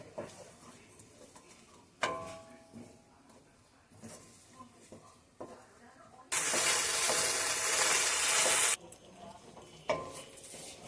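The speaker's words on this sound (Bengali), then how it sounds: "একটু সামান্য কষবো এই সময় গ্যাসের ফ্লেমটা লোতে করে রাখবো" Spices for a bottle-gourd-stem shukto tempered with carom seeds sauté in a pan over a low gas flame, with intermittent stirring scrapes and clinks and a loud hissing sizzle lasting a few seconds.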